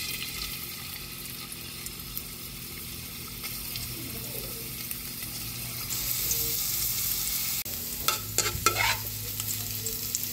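Sliced ginger fries in hot cooking oil with a steady, soft sizzle, joined by occasional scrapes and clinks of a utensil stirring in the pan.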